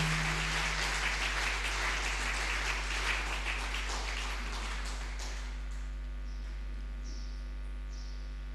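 A church congregation applauds and cheers loudly for several seconds, the dense clapping fading toward the end as a steady low hum remains.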